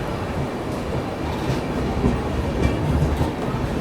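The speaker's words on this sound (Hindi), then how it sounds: "प्लेटफॉर्म नंबर 2 पर आ चुकी है पटना रांची जन शताब्दी एक्सप्रेस" Patna–Ranchi Jan Shatabdi Express rolling in at platform 2, a loud continuous rumble with rhythmic clickety-clack of wheels over rail joints, close by and without talk.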